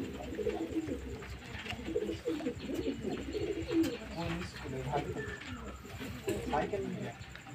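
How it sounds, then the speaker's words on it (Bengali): Pigeons at home coo softly and repeatedly while being fed grain, a low burbling chorus close by with faint voices underneath. "এই যে পায়রা খেতে দিচ্ছি"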